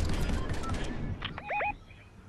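Gunfire in Fortnite, a quick close burst of rapid shots followed by short electronic game tones, otherwise quiet.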